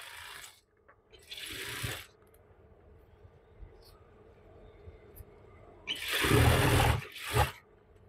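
A sewing machine stitches the elastic waistband of palazzo pants in two bursts of fast whirring, one early and one louder near the end, with quiet handling sounds between.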